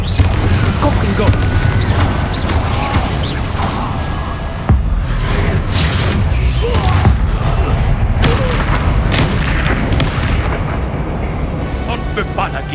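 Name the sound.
spell explosions in video game Hogwarts Legacy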